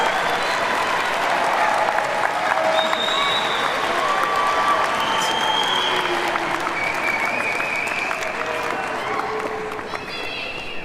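Graduation audience at the 2019 Kansas City University ceremony applauding and cheering, a steady dense wash of clapping with scattered shouts and whistles that holds loud for the full stretch before easing slightly at the end.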